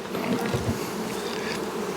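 Honey bees buzz steadily at an open hive, a dense close swarm hum with individual bees droning past, no voices.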